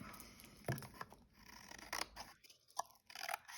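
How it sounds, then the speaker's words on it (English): Quiet, close snipping and rustling as scissors trim paper for a Christmas treat box in short, irregular strokes, with soft handling noises between cuts. "And then take the scissors again to trim it."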